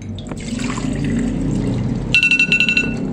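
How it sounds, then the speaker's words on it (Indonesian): A kitchen timer rings with a quick series of bright repeated dings near the end, loud and close, following a stretch of pouring or trickling water. "1 menit sudah berlalu, timer saya sudah berdenting"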